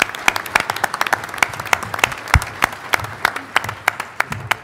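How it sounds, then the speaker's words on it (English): Applause breaks out from an audience at an immigration debate, a dense, steady patter of many hands clapping that carries on through the whole moment without speech. "Let's give Walter a round of applause."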